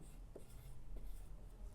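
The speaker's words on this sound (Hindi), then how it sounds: "यहाँ मैं लिखता हूँ" A pen or pencil writes by hand on paper during a percentage lesson, making soft continuous scratching strokes close up with a couple of short tapping marks.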